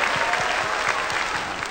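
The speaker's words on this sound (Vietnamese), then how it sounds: "phải cho một tràng pháo tay cho cái chuyện đó" A brief, steady burst of audience applause, many hands clapping evenly and close by, filling the short moment without talk.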